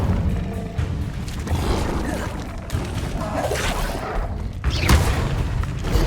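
Fire-spell effects in Hogwarts Legacy burst out in a chaotic fight, with whooshing flames, booming impacts and crashes piling up, plus a sharp blast near the end.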